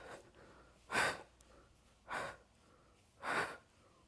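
Heavy breathing during a strength Pilates core workout: three loud, forceful breaths spaced about a second apart, close and unaccompanied, with quiet pauses between them.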